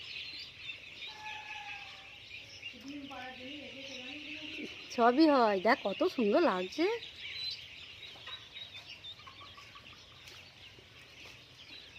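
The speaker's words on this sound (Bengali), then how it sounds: "কত হাঁস বাচ্চা দেখুন গাইস, হাঁস চাষ করেছে" Ducklings on a duck farm give high, quick peeping calls in a short cluster, moderately close, while people talk over and around them.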